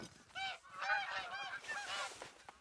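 Several geese honk repeatedly while flying overhead, a chorus of overlapping nasal calls, fairly close and clear with no talking.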